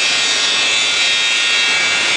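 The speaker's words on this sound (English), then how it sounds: "Engine testing the Mad Dog." McDonnell Douglas MD-80 jet engine running a test at an airport under dim skies, a steady loud broadband roar and whine that holds unchanged throughout, with no voices.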